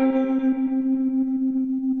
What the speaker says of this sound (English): A little bit of crunch here.